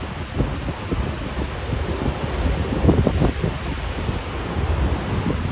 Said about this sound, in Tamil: கடல் அலை நல்ல வேகமாக தான் வந்துட்டுருக்கு.